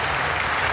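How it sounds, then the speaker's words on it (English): A cricket crowd applauds Ben Stokes' double century of 258 for England against South Africa in the 2016 second Test, with steady, dense clapping from a large stadium audience and no talk. "the crowd standing on their feet, appreciating an incredible innings."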